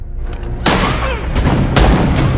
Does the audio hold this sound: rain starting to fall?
no